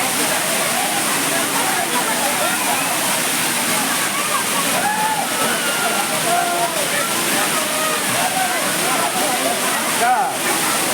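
A forest waterfall pours in a steady, dense roar of rushing and splashing water, loud and close, continuous throughout, with a voice faintly present underneath.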